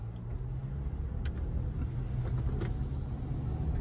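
Cabin view of a 2023 Kia Sportage X-Pro Prestige AWD on the move: a steady low road and engine hum fills the interior, with a few faint clicks and light rattles over it and no talk.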